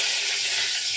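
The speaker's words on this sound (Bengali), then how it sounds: "এখানে বেগুন ভাজতে দিয়ে দিই" Eggplant slices, rubbed with salt and turmeric, fry in a pan beside chillies with a steady, close hiss and sizzle of hot oil that holds without a break.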